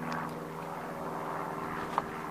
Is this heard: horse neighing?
no